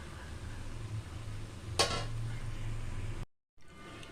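Murukulu, a rice-flour snack, frying in hot oil, a faint continuous sizzle with one brief clink of a utensil midway and a short gap near the end.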